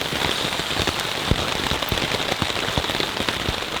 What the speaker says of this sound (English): soon awoke to the sounds of heavy rainfall